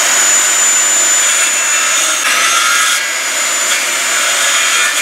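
A sawzall cuts through wood while building a worm bed, giving a continuous loud, harsh buzzing rasp that holds steady for the whole stretch with no talking.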